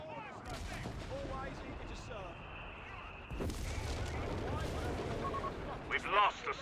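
Artillery barrage in Company of Heroes 3, a real-time strategy game with British forces: a dense wash of booming shell impacts and crackling gunfire that swells louder midway and keeps rumbling to the end.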